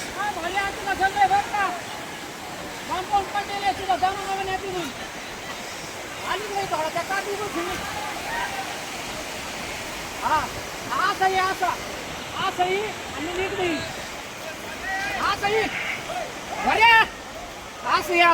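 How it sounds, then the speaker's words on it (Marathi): Floodwater from a swollen river rushes through a village past sugarcane fields in a continuous close roar, while people talk over it throughout. "आमच्या तिकडं नदीला एवढा पूर आला"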